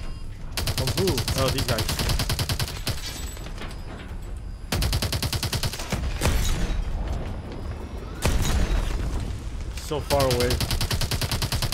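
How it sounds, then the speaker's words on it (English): Sustained automatic gunfire in Call of Duty Advanced Warfare, dense rapid rattling bursts through most of the stretch with brief gaps, loud and close, with players talking over it. "Taking fire from the right."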